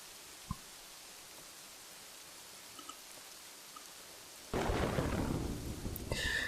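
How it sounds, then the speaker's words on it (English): A thunderstorm in the video game Kingdoms & Castles: after several seconds of near-quiet with a few faint ticks, a dense roar of rain and rumbling thunder sets in abruptly and continues steadily to the end. "Oh yeah, thunderstorms, that's a thing."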